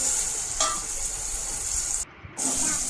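Steady sizzling of drumstick pods being sautéed in a pan for a village-style curry, with a spoon scraping and stirring, close up and continuous apart from a brief dip near the end.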